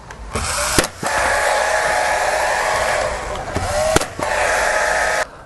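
A bladed power tool cuts into a door during a job-site door installation, a loud, steady whine running nearly the whole time, briefly stopping and restarting twice with sharp knocks, and a voice faintly heard beneath.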